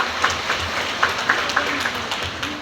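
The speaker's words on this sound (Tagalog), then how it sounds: "Bigyan po natin siya ng malakas na palakpak" An audience applauds a speaker with a soft, continuous patter of clapping at moderate distance, a few sharper claps standing out over a low room hum.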